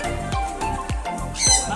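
A parrot on a trip in Bohol gives a series of loud, harsh squawks, four or five sharp calls in steady succession, close by and with no talk over them.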